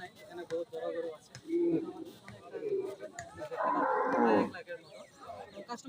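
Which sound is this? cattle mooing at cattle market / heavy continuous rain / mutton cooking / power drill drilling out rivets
cattle mooing at cattle market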